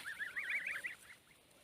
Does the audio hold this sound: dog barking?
no